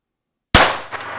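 A single sharp gunshot from a handgun at an indoor shooting range cracks loud and close, then a short reverberant tail fades out.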